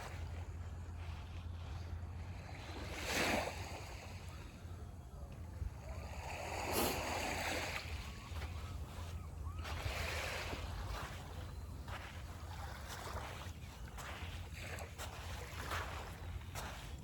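Sea waves wash along the shore at Stanley Park, Vancouver, a faint, soft surge rising and falling in several gentle swells over low wind rumble.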